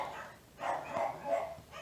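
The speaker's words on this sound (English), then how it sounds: "I'm not sure why are they barking" Dogs bark at home, a few separate muffled woofs with a yip or whimper, heard from a short distance in a quiet room with no talk.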